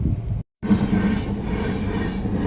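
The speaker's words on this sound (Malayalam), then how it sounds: "അങ്ങനെ ട്രെയിൻ ഇതാ പോയി കഴിഞ്ഞു പോയി കഴിഞ്ഞു." A train rumbles steadily past at close range, a continuous heavy roar of rail noise with a brief cut in the middle.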